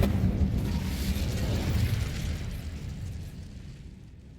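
Incendio fire spell cast in Hogwarts Legacy, a broad roaring whoosh of flame that starts loud and slowly fades over a few seconds, heard alone.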